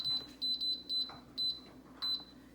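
An air fryer oven gives six short, high-pitched electronic beeps in an uneven rhythm, some paired, clear against a quiet kitchen background.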